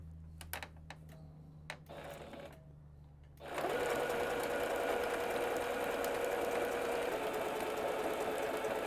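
A sewing machine stitches a cactus quilt, starting with a few separate close clicks and a low hum, then running into a loud, continuous fast rattle of stitching.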